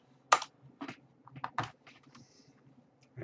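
Someone types a short command on a computer keyboard, producing a handful of irregular, crisp key clicks close up in a quiet room.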